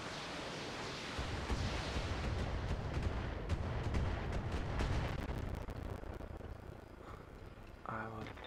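Heavy mech weapon fire in the video game Battletech, a dense, booming barrage of blasts and rumbling impacts that holds for several seconds, loud and close, then thins out toward the end.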